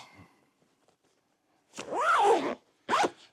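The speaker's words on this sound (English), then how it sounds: "We're gonna zip that up." A GORUCK Bullet Ruck backpack zipper is pulled shut nearby, sounding as a long rising rasp and then a short second zip, loud and clear against near silence.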